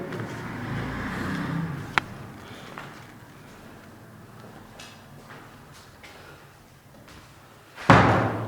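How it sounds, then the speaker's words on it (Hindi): A door slams shut hard and close by at the end, a loud, heavy thud after a stretch of quiet room noise with a few faint knocks, in an indoor setting during a ghost-hunting show. "दरवाजा बंद कर दो।"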